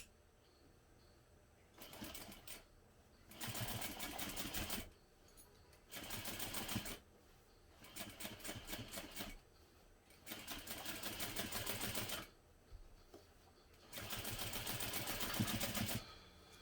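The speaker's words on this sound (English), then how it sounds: "now we'll top stitch through the accent stripe and through that seam allowance using a 1/8 inch seam allowance" Domestic sewing machine topstitching a 1/8 inch seam through an accent stripe and seam allowance on a garment, running in several bursts of steady rapid stitching separated by short pauses, close and fairly quiet.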